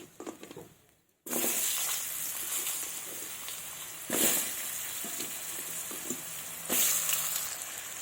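Potatoes dropped into hot oil already used for frying fish burst into a loud, bright sizzle after a quiet start, then keep hissing steadily with two louder surges, no voices.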